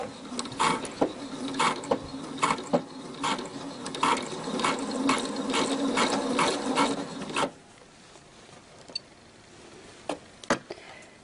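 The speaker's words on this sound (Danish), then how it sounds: "Og så skal vi sy herude i det lyse turkise." A sewing machine stitches elastic onto light turquoise fabric for a girl's dress, running in a fast, rhythmic mechanical chatter for several seconds before stopping. A few faint, isolated clicks follow.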